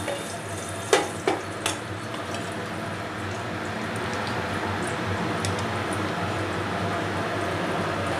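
Bay leaves and dried chillies hit hot oil in a pan, with a few sharp pops at first and then a steady, moderately loud frying sizzle.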